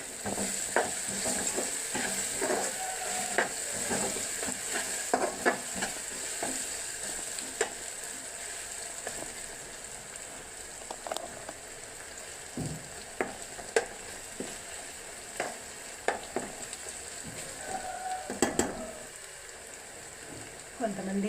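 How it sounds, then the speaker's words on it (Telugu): Onions fry and soften in a pan for a fish curry, giving a continuous close sizzle broken by frequent spatula scrapes and taps at an irregular pace. "ఇప్పుడు కొంచెం ఆనియన్స్ ఇంకా మగ్గాలండి."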